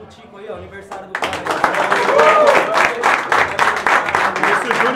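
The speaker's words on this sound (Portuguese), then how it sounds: "Primeiramente, vou dar uma salva de palmas pro Tico aí, ó." An amateur football team breaks into a round of applause at its team talk before a várzea cup final, with dense, loud clapping starting after a brief pause and voices mixed in.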